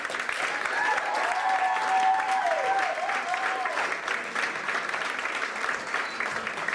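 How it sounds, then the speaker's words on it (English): A comedy club audience applauds for comedian Nate Bargatze, a steady dense wash of clapping with a few whoops, holding strong for several seconds before easing slightly. "Clap it up for Nate Bargatze."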